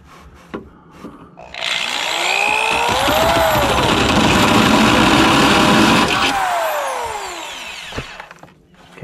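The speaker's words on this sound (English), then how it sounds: "put a little light duty oil on your drill bit before you start drilling into metal" A power drill whines at a steady high pitch as its oiled bit bites into a metal bumper bracket on a VW Bus, running continuously for several seconds before spinning down, with faint clicks before and after.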